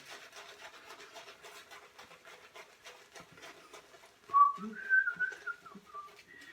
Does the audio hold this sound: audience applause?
no